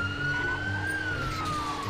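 A siren on an express train wails steadily, a single rising then falling tone over a continuous engine and traffic rumble, in an Upin & Ipin animation.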